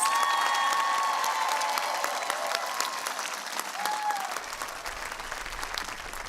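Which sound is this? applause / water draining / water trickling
applause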